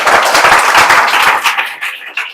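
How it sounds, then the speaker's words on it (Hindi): A small group of people clap together at an emotional gathering honouring a student and his mother, dense irregular claps for about a second and a half before thinning out to a few scattered claps. "ताली बजा दो भाई।"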